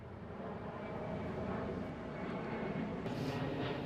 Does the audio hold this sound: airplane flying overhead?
yes